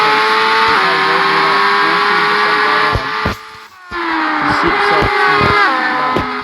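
A Formula 1 car in a video game at the 2023 Malaysian Grand Prix, its engine wailing loud and steady as it enters the pit lane, with a brief dip in the middle, under commentary-style talk.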